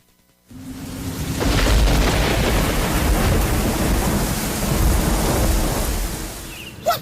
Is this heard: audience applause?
no